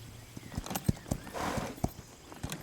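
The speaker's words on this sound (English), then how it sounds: "Oh, there's her horse." Horse hooves clip-clop in The Legend of Zelda: Breath of the Wild, a string of sharp, fairly close hoof thuds in an irregular rhythm, with a brief swell of breathy ambience midway.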